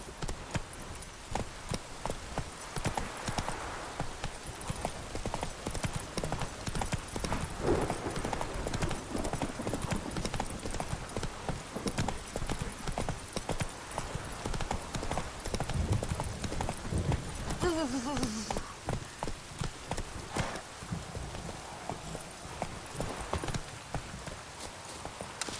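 Roach the horse galloping in The Witcher 3, with rapid continuous hoofbeats drumming steadily and moderately loud, and faint game sounds and brief voice underneath.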